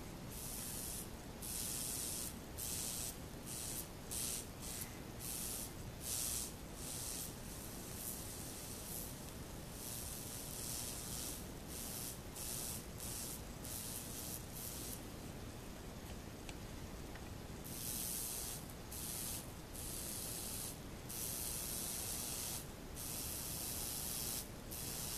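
Acid etching on a knife blade fizzes and sizzles with a constant hiss for the whole stretch, broken by brief pulsing crackles, close and steady with no speech.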